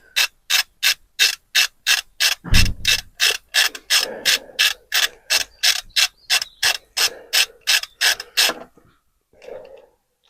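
A ratchet clicks rapidly and evenly as a stud extractor winds a snapped exhaust manifold stud out of a BMW E90 325D, about two dozen sharp close clicks with a brief creak partway, then it stops.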